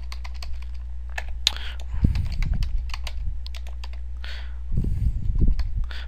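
Computer keyboard typing in a video editing software session: steady bursts of key clicks across the clip, with two heavier low thumps midway and near the end, over a constant low hum.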